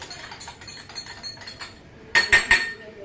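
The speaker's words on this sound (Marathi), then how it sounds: "हे मी आर्थोची पावडर मिक्स करतोय आणि ही गोळी मिक्स करतोय" Ortho powder and a pill are mixed in a container, giving a light scraping stir followed by a few sharp, close clinks near the end, with no talk.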